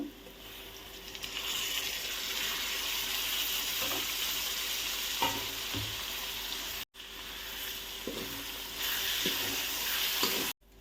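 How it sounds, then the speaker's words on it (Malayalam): Tomato added to sautéed onions for a crab roast fries in a pan with a steady, close sizzle, punctuated by soft stirring knocks and a momentary break in the sound. "ഇനി നമുക്കിതിലേക്ക് തക്കാളി ചേർത്ത് കൊടുക്കാം"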